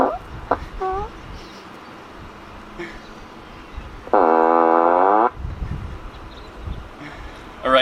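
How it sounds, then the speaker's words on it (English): A Tesla's Boombox plays a fart sound effect through its exterior speaker outdoors, a single loud, buzzing blast lasting about a second, with faint chirps and wind noise around it. "Next we'll do the fart."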